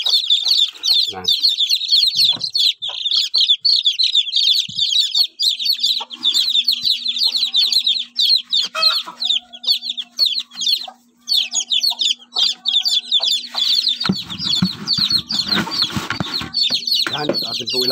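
A mother hen and her brood of chicks cluck and cheep continuously and close by, with dense high peeping throughout, while a person talks quietly underneath.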